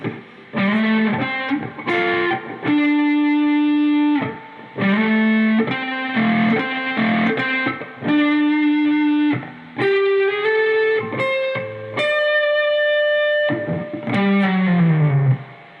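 A distorted electric guitar plays the solo slowly, with sustained bent notes in separate phrases and short gaps between them. It rings out loud and close, with effects.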